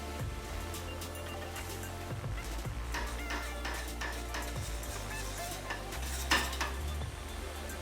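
A spoon repeatedly scrapes and clinks against a metal pot of tomato soup in a steady rhythm, with a soft sizzling hiss and low hum underneath.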